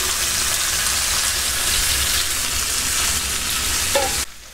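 Alfaham chicken coated in masala is turned and fried in a pan, giving a continuous loud sizzle with stirring scrapes and a brief clink near the end before the sound cuts off.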